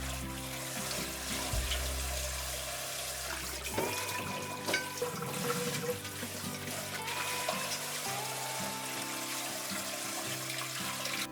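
Ginseng roots rinsed under running water, a continuous splashing stream with steady rushing flow and occasional clunks in the background, no talking.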